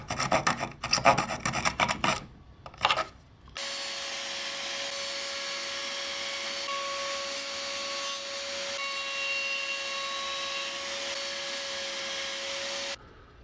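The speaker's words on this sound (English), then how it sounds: "To cut out these little slots, I'll just use these little saws I made." Small handmade saws built from dowels and hacksaw blades cut little slots in wood, giving a few seconds of quick, rough rasping strokes before a steady, whining motor-like hum takes over for the rest.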